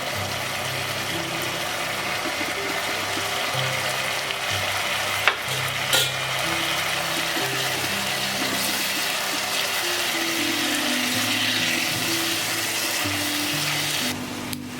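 Bay leaves and turmeric stirred into hot oil in a pan while making a Bengali chicken curry with raw green mango, giving a steady close sizzle with stirring scrapes throughout and no talking.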